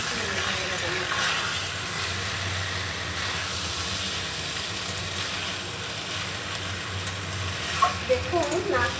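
A snack mixture with tomato ketchup is stirred gently in a hot pan, producing a continuous fizzing sizzle with light scraping clicks that grow more distinct toward the end.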